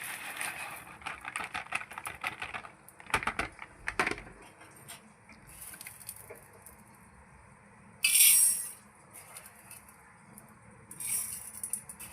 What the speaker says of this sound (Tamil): அந்த உளுந்தை வந்து நான் இதில் கொட்டிக்கிறேன்